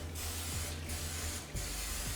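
Cooking spray hisses onto a baking tin being prepared for a lemon drizzle cake, in a few close, steady bursts separated by short pauses.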